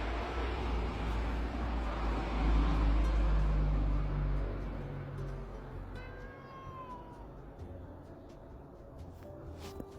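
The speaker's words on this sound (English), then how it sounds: "Sorry guys if you hear a meow, that's my cat." A cat meows faintly once or twice, a short rising-falling cry over steady low background rumble, with no talking.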